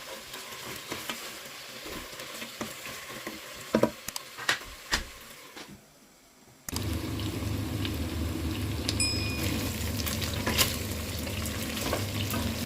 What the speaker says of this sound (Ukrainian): Смажимо хвилин 10 періодично помішуючи.